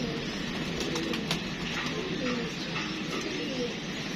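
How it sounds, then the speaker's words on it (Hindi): Soft pigeon coos repeat over a steady outdoor hum, with faint chirps here and there and no clear talk. "ये देखें दोस्तों ये कबूतरी है"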